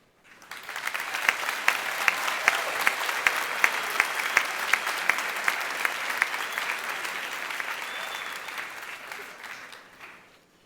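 A commencement ceremony audience applauds the special guest speaker, a full round of clapping that swells in quickly, holds steady with some sharp individual claps, then tapers off near the end.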